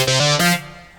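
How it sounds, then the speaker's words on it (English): Fat synth patch on a Yamaha MODX keyboard: a brief, loud, thick buzzy chord with a couple of quick pitch shifts, lasting about half a second before fading into a soft tail, with no voices. "there's a fat synth in there,"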